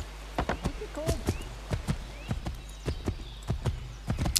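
Horse hooves clip-clop in steady rhythmic beats while riding through Assassin's Creed 3, moderately close and clear, with a faint background and no talking.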